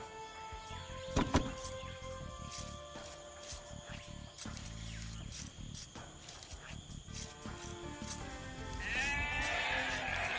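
Sheep bleating in the Age of Empires II video game, a few short faint bleats amid soft game sounds and other in-game effects over about ten seconds.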